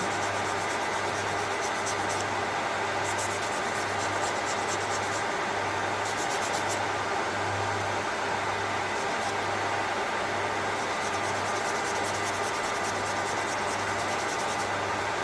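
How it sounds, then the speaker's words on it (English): A handheld nail buffer rubs back and forth across a fingernail to smooth out scratches, making a steady, close, soft scraping hiss that runs without a break over a faint low hum. "I'm going to take my buffer and buff out like that, because I don't want any scratches to shine through"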